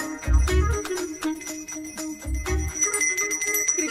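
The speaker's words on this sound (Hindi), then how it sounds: "मुझे जल्दी आओ बोल के यहाँ पर घंटी बजा रहे हो" A bell rings on its own, sustained metallic tones shimmering throughout with a few dull low thuds near the start and again midway, clear and fairly loud with no talking.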